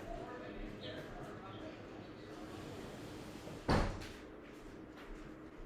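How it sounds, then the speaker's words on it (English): A door is pushed shut with one firm thud against steady outdoor noise from a pool area by Tampa Bay, and a voice talks faintly before and after. "I'm going to shut this door because mm, it's a lot of noise out here"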